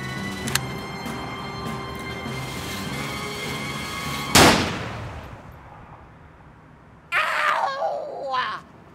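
One loud, close gunshot cracks sharply and rings out over a music-like background, followed a few seconds later by a voice crying out.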